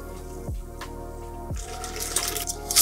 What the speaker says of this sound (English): And pour our cocktail.